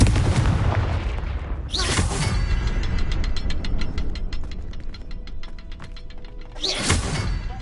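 A Confringo explosion spell in Hogwarts Legacy, with two sharp booming blasts a few seconds apart and rapid clicking, rattling mechanism sounds between them over a busy game background.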